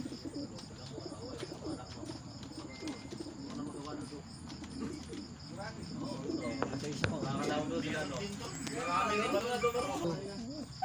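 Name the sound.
pigeons cooing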